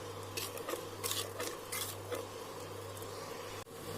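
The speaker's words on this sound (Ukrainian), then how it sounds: "Розмішую і даю закипіти" A spoon stirring salt and sugar into boiling water for a pepper marinade in a pot, making several scraping, clinking strokes against the metal over a low steady hum, quiet and close, with no voices.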